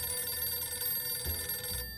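A telephone rings in the video game 60 Seconds, a steady electronic bell tone over a low hum that cuts off abruptly near the end.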